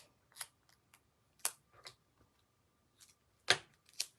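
Soft, quiet crinkles and small snips of adhesive tape being pulled and pressed onto a beaded tassel during a craft, a handful of brief crisp bursts with pauses between.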